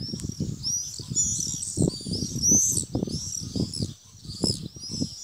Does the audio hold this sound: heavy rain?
no